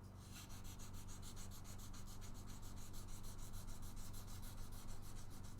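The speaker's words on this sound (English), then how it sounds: "Now we sand the frets." Guitar frets being sanded by hand, a rapid, regular back-and-forth rubbing scrape, close and fairly quiet, with no voices.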